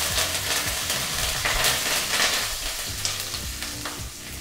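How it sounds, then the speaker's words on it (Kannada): Chana dal, urad dal, broken chilies and curry leaves frying in hot oil for a Karnataka-style bean palya, giving a dense, loud, continuous close-up sizzle with a few soft stirring knocks and no speech. "ಈಗ ಇದನ್ನೆಲ್ಲ ಒಂದು 30 ಸೆಕೆಂಡ್ಗಳ ಕಾಲ ಎಣ್ಣೆಯಲ್ಲಿ ಫ್ರೈ ಮಾಡಬೇಕು."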